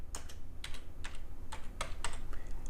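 Keys clatter on a computer keyboard as a brush preset name is typed in Photoshop, several short bursts of close clicks in an uneven rhythm, with no speech.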